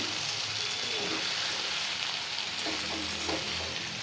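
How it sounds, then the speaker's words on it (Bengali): Spices with Kashmiri chili powder sauté in a hot pan, a steady close sizzle and hiss with faint stirring scrapes, no talk. "এই দিলাম কাশ্মীরি লঙ্কা গুঁড়ো। এইবারে একটু কষিয়ে নিয়ে"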